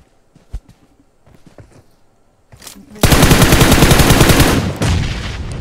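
M4 rifle fire in PUBG: rapid automatic bursts, loud and close, come in after a few quiet footsteps and clicks and keep going hard to the end.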